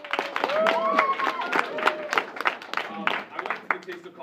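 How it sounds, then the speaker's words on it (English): A small stand-up comedy audience claps unevenly, with scattered individual claps and some whoops and voices mixed into the applause. "That's the part where I expect you guys to clap for."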